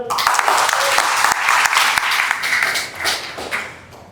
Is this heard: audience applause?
yes